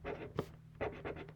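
A pen writes on paper in quiet, close strokes, a few short scratchy bursts with brief pauses between them and no talking.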